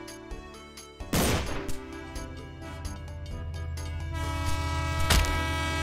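A train rumbles past in a Roblox game, steady loud engine and rail noise with horn-like tones throughout and a sharp burst near the end, no speech.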